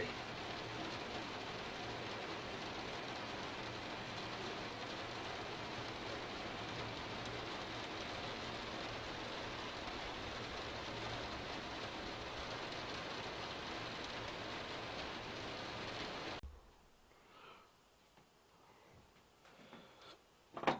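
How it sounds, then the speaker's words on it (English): Heavy rain pours steadily in Scotland, a dense continuous hiss drumming on surfaces for about sixteen seconds, then cutting off abruptly to near quiet with faint knocks. "true to form, it's just started raining"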